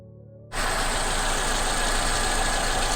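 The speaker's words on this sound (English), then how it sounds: "we're going to go ahead and start the car" A 2010–2017 Toyota Camry engine catches abruptly after a brief quiet start, then settles into a steady, close idle with no talk.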